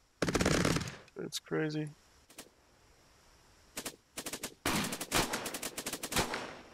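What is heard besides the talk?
machine gun firing in the video game Cepheus Protocol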